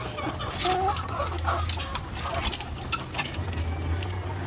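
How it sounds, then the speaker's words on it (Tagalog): Chickens cluck softly and steadily nearby while eating, with occasional pecking taps and a low hum in the background. "So yan yung mga manok natin kumakain."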